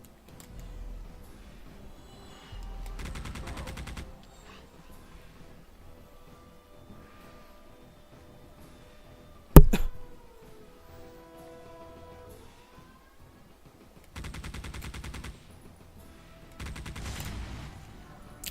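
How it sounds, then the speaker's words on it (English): Turret gunfire in the GameCube video game Geist comes in short rattling bursts separated by pauses, with one sharp loud blast midway, amid quieter game ambience. "It's just using turrets to mow down enemies."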